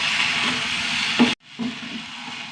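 Onions with grated coconut frying in a pan give a steady loud sizzle, broken by a brief stirring scrape and a sudden cut to quiet before the hiss resumes.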